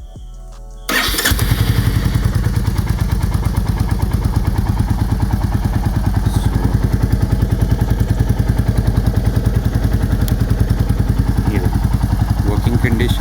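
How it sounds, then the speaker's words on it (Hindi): A Royal Enfield Bullet Classic 350 BS6 motorcycle engine fires up after a brief quiet moment, then settles into a loud, steady thumping single-cylinder idle close by that continues throughout. "इंजन स्टार्ट करते हैं।"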